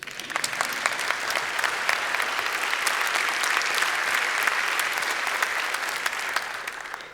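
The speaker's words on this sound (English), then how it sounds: "Can I have another round of applause for Ulla," Sustained applause from a conference audience for a speaker named Ulla: thick, even clapping at close range throughout, tapering slightly at the very end.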